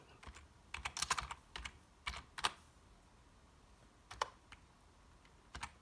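Fingers type a search on a computer keyboard, producing quick, clattering clusters of key clicks separated by short pauses. The sound is faint and close by, with no talking.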